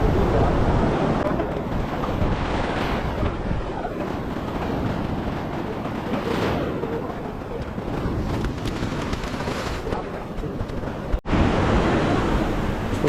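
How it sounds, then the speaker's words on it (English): Rushing wind and churning water roar constantly around a moving boat at sea off the Karnataka coast, heading to Netrani Island, with a dull engine rumble underneath and one sharp knock near the end. "So now we are heading on the boat to go to the island."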